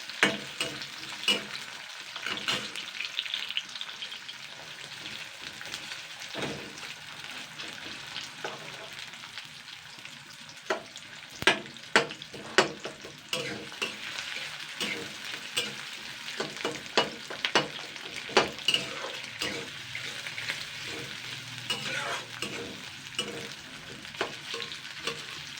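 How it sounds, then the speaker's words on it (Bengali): Onions frying lightly in a pan for a Bengali flat-bean (sheem) dish, a steady soft sizzle with frequent stirring scrapes and a few sharper clinks of the spatula, close and continuous with no talk. "পেঁয়াজটা আগে ভেজে নেবো, একটু হালকা করে ভেজে নেবো"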